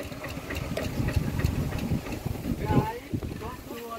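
A large tractor engine runs steadily at a rice field during harvest, a low rumbling idle close by with people talking over it.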